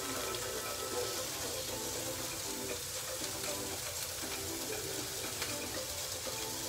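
Ground beef patties for Salisbury steak sizzle steadily in a hot pan, a constant close frying hiss with faint crackles and little talk.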